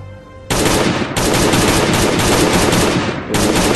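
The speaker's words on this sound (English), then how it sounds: "let's go ahead and do some AK damage on this turret" Sustained automatic AK rifle fire aimed at a turret in the Last Day on Earth survival game, loud and dense, beginning after a brief quiet moment, with a short gap before the burst resumes near the end.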